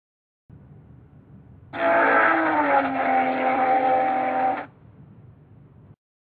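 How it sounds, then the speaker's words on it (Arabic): A synthetic car engine sound effect plays in an Alice animation program: a loud, roaring, revving burst of about three seconds rising abruptly out of a faint background hum and cutting off sharply. "يجب أن تتحرك السيارة وتصدر الصوت في نفس الوقت"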